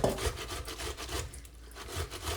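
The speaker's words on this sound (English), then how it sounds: "So all we're gonna do, grate it, just like that." Eggplant is rubbed against a large hand grater in quick, scratchy back-and-forth strokes, close up, a continuous rasping texture over about two seconds with no talking.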